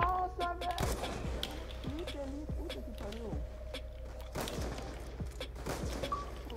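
A few sharp sniper gunshots crack out, one early and one later, over video game ambience and intermittent clicks and thumps; one shot misses.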